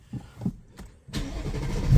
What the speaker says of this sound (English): Let's get into Mustang. Let's start this up.